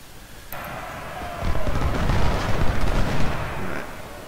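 Cannon and artillery fire in the Civil War strategy game Ultimate General: Civil War, a loud sustained rumble of booms building after a sharp onset and rolling on for several seconds.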